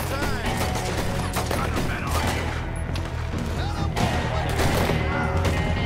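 Gunfire in Red Dead Redemption 2 during a busy shootout, dense overlapping shots and mechanical clatter sounding loud and continuous with a voice shouting over it.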